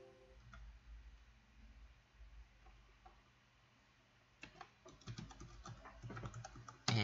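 Someone types a password on a computer keyboard, with a few sparse clicks at first and then a quick, close run of keystrokes over a quiet background, without speech.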